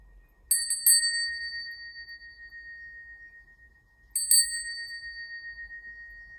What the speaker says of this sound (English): This is a beautiful high frequency noise and bell.